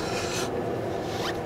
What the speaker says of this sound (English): make sure that you spread it evenly